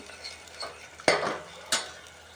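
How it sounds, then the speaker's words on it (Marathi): Onion and tomato masala sautéing in oil in a pan, a quiet background sizzle broken by two sharp spatula scrapes against the metal, close and otherwise calm. "आता हे मस्तपैकी तेल सुटेपर्यंत परतून घेतलं."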